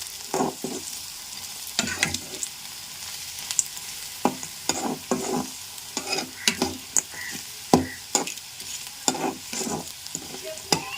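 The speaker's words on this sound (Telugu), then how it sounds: "ఇప్పుడు కలుపుతున్నారు" A spoon stirs spiced curry with salt, chili powder and turmeric in a pan, giving repeated close scraping strokes in an uneven rhythm over a soft background sizzle.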